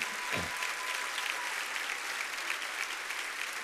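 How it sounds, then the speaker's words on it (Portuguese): A congregation at an evening Baptist church service claps steadily, the broad crackle of many hands continuing evenly with a brief low thump near the start and no voices over it. "pode aplaudi-lo mesmo."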